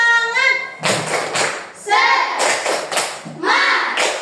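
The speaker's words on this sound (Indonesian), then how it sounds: "Ya, tepuk semangat." A classroom of children doing a rhythmic clapping ice-breaker led by a teacher, with bursts of loud, close claps in a patterned rhythm mixed with chanted voices.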